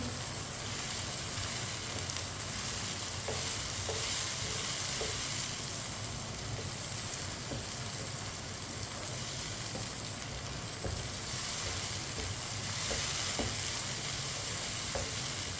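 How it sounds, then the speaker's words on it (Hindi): Boiled white chickpeas stirred into rice in a pan for salted rice, a constant hiss of frying with faint scraping and occasional soft taps, close and even throughout. "ये देखिए वाइट चने डाल लेंगे, मिक्स कर लेंगे"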